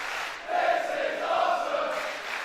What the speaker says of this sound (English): the crowd are chanting, "This is awesome,"